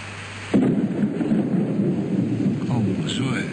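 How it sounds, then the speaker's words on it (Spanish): Heavy rain in Argentina, a dense steady roar of downpour that starts abruptly and continues loud and close, with a low rumble beneath it. "¿Cómo llueve?"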